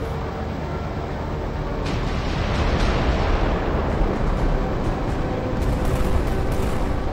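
Artillery fire called in during a session of the naval strategy game Carrier Command 2, a loud continuous rumbling barrage of blasts that swells after a couple of seconds and holds steady, with no talk.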